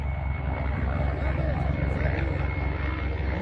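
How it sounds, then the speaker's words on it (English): Steady low rotor drone of an approaching Mi-24 helicopter fills the clip, a continuous mechanical rumble with faint voices underneath. "You hear the second helicopter coming up."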